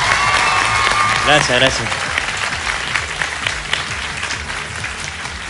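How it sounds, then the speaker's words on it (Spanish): An audience at a televised singing-impersonator casting applauds a nervous contestant, sustained loud clapping with a voice briefly speaking over it near the start. "Ricardo, este aplauso es para ti, para que se calmen los nervios"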